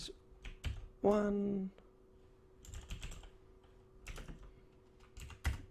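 Java code typed on a computer keyboard produces quiet, irregular key clicks in scattered bursts, with a brief voiced sound in between.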